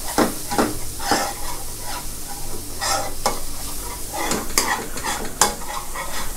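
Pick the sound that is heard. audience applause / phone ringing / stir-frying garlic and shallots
stir-frying garlic and shallots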